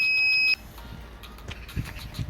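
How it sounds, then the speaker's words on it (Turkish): A newly installed car parking sensor emits a continuous high-pitched tone for about half a second, then stops, leaving quiet handling noises close by. "Sensörümüzü test ediyoruz. Tam yaklaşınca sürekli çalıyor."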